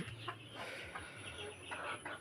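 Egyptian Fayoumi laying hens cluck softly in a farm flock, faint short calls rising now and then over a quiet background hum.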